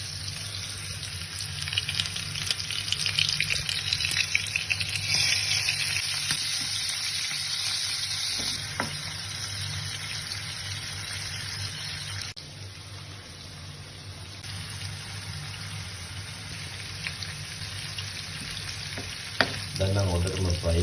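Prawns frying in butter in a pan for a creamy garlic prawn curry, a steady close sizzle running continuously with occasional stirring clinks and a faint background hum.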